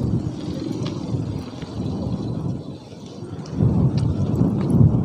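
Strong wind gusting outdoors on a village walk, a loud, close roaring rumble buffeting the microphone throughout, swelling stronger toward the end, with no talking.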